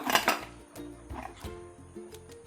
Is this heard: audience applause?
no